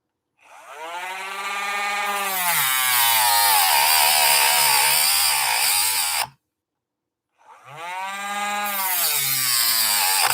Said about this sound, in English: you can see with the Dremel, you can get a nice clean square cut that way if you're careful